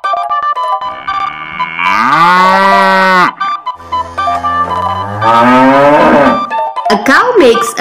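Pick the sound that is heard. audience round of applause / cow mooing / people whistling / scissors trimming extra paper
cow mooing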